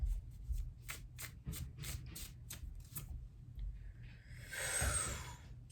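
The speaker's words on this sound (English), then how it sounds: "We'll pull 3 more cards." Tarot cards being shuffled by hand, a rapid series of crisp riffling snaps followed by a softer sliding rustle as the deck is gathered, close and clear with no talking.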